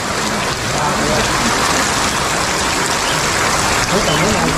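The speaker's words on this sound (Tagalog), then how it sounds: "Wala pa, umuulan pa rin po." Steady, dense rain pours down loudly, a continuous hiss of drops on surfaces with faint voices underneath.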